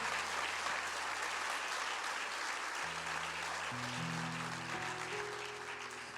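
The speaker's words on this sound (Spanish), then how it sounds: "Dele un aplauso ahí al Señor." A church congregation applauds in a steady, sustained ovation that fills the room, with held instrument tones joining in partway through.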